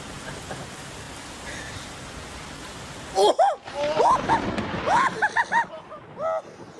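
Steady hiss of rain fills the background, then bursts of loud, distorted voices break in over the downpour.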